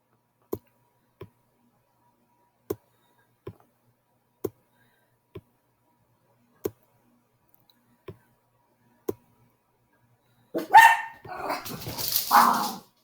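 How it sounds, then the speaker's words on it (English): A dog barks in short single yips spaced irregularly several seconds apart, fairly distant and sharp, before a louder burst of barking and noise near the end. "And there my dog's barking"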